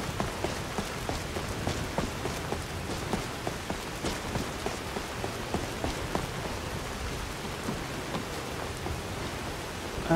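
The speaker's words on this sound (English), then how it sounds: "And of course it's raining." Steady rain pours down continuously in modded Skyrim Special Edition, a dense patter of drops on surfaces filling the whole stretch with no voices.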